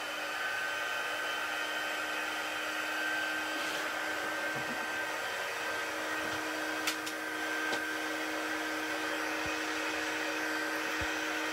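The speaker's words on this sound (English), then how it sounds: "Okay, heat gun is going on, so you've been warned." A heat gun runs steadily, a continuous loud blowing hum with a faint whine, over several light clicks and taps nearby during craft work on coffee-themed gifts, with no talking.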